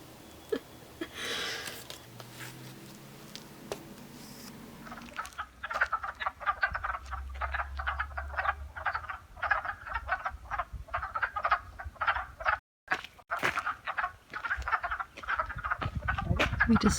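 Frogs croak in a dense, rapid chorus outdoors in spring, loud and continuous after a quieter opening with a faint low hum, the pulsing calls overlapping steadily to the end.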